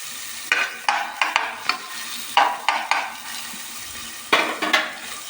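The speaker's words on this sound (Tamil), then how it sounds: "தேவையான அளவு உப்பு சேர்த்து அதை நல்லா வதக்கிக்கோங்க." Onions with salt being sautéed for a country chicken curry, a spoon stirring and scraping the pan in repeated bursts over a steady close sizzle, with no voices.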